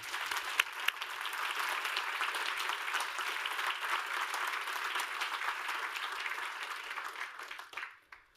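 An audience applauds at the closing remarks of an annual corporate event. The clapping is steady and sustained for about eight seconds, then fades out quickly at the end.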